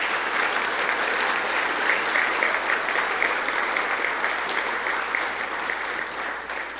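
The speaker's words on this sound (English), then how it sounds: "If we give them a round of applause" At a college football awards banquet, an audience breaks into a round of applause. The clapping is dense and steady and carries on for several seconds before thinning slightly toward the end.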